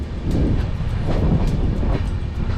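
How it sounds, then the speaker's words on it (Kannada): A passenger train runs near Nagercoil between Kanyakumari and Trivandrum, heard from on board as a loud, low rumble with rhythmic clicks of the wheels on the rails. "ಈಗ ನಮ್ಮ ಟ್ರೈನ್ ಹತ್ರ ಹತ್ರ ನಾಗೋರ್ ಕಾಯಿಲ್ ಹತ್ರ ರೀಚ್ ಆಗ್ತಾ ಇದೆ"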